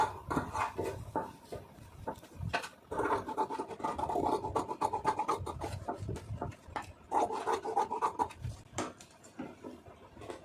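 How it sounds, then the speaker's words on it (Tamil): Scissors cutting lining cloth around a blouse neckline, with repeated scratchy snips and rasping fabric rubs close by, coming in bursts with brief pauses. "இந்த நெக்கு வந்து இந்த மாதிரி கட் பண்ணுறது"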